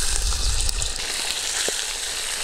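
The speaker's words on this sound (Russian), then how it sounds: "Будем сейчас обжаривать наше мясо." Chicken pieces frying in hot oil in a kazan over a campfire, giving a loud, steady hiss and crackle close by with scattered spits and pops.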